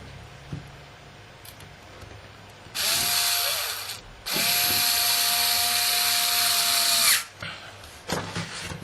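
A power screwdriver drives screws into a PlayStation 2 hard drive enclosure in two close, loud whirring bursts, the second one longer, with quiet handling noise before and after.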